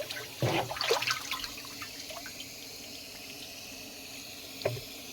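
Water being stirred with a stick to mix urea and 20-20 fertilizer for venturi feeding of oil palm seedlings, with splashy sloshing bursts near the start and a brief swish near the end, under a steady background wash.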